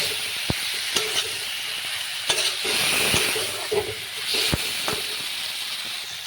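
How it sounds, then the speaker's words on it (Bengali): Ridge gourd and potato pieces frying in a pan while being stirred, a steady close sizzle overlaid with sharp scattered clicks and taps of the spatula against the pan. "আমি ঝিঙে আলুগুলো দিয়ে দিলাম একসঙ্গে, তারপর নাড়িয়ে চালিয়ে নিচ্ছি"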